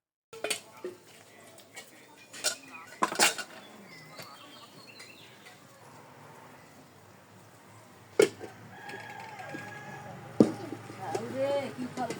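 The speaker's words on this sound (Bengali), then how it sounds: "মূলা শাক ভাজা করছি, নামানোর আগে সামান্য চালের গুঁড়ো দিলাম। এখন নেড়ে চেড়ে দেব" A spatula clinks and scrapes against a pan while fried radish greens dusted with rice flour are stirred. The strokes are light and intermittent, with a voice talking over a quiet home background.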